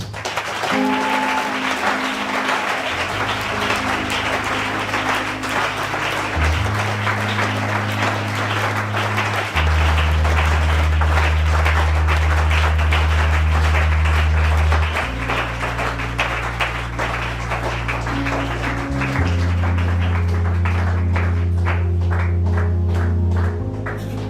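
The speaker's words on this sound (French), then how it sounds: "Acclame le Seigneur Jésus-Christ" Church congregation clapping steadily through a French-language worship service, loud sustained applause for over twenty seconds alongside a low held organ or keyboard chord that shifts in steps.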